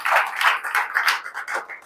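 Hands clap in a quick, uneven run of about eight sharp claps from a small group at a police recruitment guidance session, fairly close and with no talk over them.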